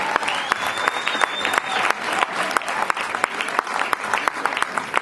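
Audience applause and cheering greet a singer-songwriter at an evening stage event, a dense sustained clapping crowd with sharp individual claps throughout.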